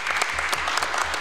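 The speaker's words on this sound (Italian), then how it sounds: "Facciamo un applauso a Roberto." Audience applause for Roberto at a closing event, a dense steady wash of many hands clapping at close range, loud and continuous with no talk over it.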